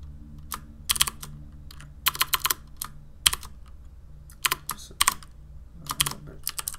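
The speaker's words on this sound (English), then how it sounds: "just start typing" Clicky typing on a CM Storm QuickFire Rapid tenkeyless keyboard with Cherry MX Blue switches, close and crisp, in irregular bursts of rapid keystrokes with short pauses between them and no voices.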